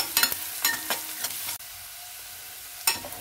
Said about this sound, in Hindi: प्याज को हमें हल्का सा ट्रांसपेरेंट होने तक भून लेना है